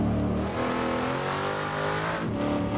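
A race car engine in a Bathurst racing video game drones steadily and loudly, its pitch climbing and shifting through gear changes with a sharp dip and recovery near the end, with no talk over it.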